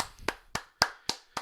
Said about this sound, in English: give a round of applause to Mr. V in the chat